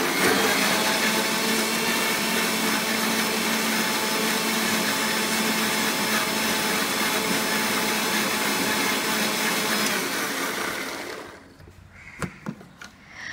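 A blender whips homemade mayonnaise in a loud, steady motor whirr that runs unbroken for about eleven seconds, then cuts off, leaving a few faint knocks and clatters.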